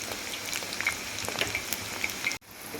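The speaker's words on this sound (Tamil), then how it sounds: "நல்லா வேகட்டும் எண்ணெய் காஞ்சிருக்கு அதனால் அடுப்பை நம்ம குறைச்சிக்குவோம்" Onion pakoda fries in hot oil with a dense, close crackling sizzle and scattered bubbling pops, then cuts off abruptly near the end.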